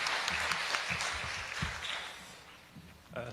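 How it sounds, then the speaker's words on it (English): An audience at an international organisation career fair applauds to welcome a speaker; the clapping is steady at first and then fades, with a brief voice near the end. "Please give a big round of applause to Mr."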